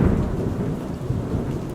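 Thunder rumbles deep and loud over steady rain in a pine forest, one continuous roll that cuts off abruptly at the end.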